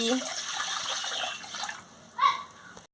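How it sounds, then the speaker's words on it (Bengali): Water poured into a wok heating on a lit stove, a brief splashing pour that swells near the end and then stops, with a voice speaking over the earlier part. "এবারে জলটা দিয়ে দিচ্ছি"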